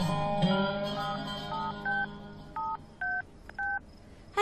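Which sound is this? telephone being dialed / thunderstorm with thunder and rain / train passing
telephone being dialed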